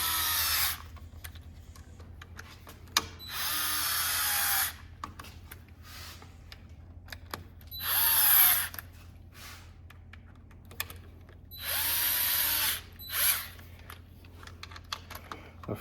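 A power drill tightens the bolts on a Minn Kota Ulterra trim motor in several separate bursts, each a few seconds long and fairly loud, with quiet pauses between them. No one speaks.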